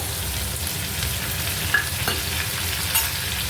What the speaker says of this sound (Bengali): আলু কুমড়ো তো ভালো করে ভাজছি